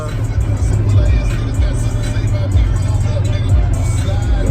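Heavy 18-wheeler trucks roll past on a highway, a steady loud low rumble of engines and tire roar with passing swells, close by and continuous, with faint voices in the background.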